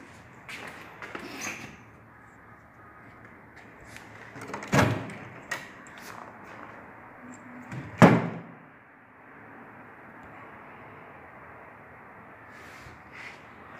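Old metal drawers in the basement of an abandoned asylum, handled in short bursts: scrapes and rattles, two sharp louder clanks near the middle, and quieter shuffling between them in a hollow, roomy space.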